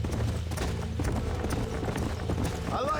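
Horse hooves clip-clopping at a steady trot in the video game Red Dead Redemption, heading back to a ranch after horse wrangling, a continuous rhythmic patter under game music and ambient sound.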